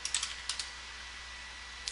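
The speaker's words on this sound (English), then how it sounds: "I'm selecting the cells, clicking inside the name box, typing in the name and pressing enter" Quick keystrokes on a computer keyboard while naming a cell range in a spreadsheet, a short cluster of close, light clicks followed by a pause and one final tap, over faint room hiss.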